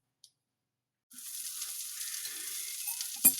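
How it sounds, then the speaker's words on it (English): After a brief silence, butter starts sizzling in a hot pan for frying fish cakes, a steady crackling hiss that continues, with a small clink near the end. "Just let me prepare now to start frying."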